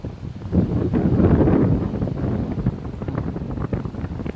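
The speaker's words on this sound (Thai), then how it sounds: "ลมก็แรง" Strong wind at a beach buffets the microphone in a loud, continuous low roar with gusty swells, with no speech.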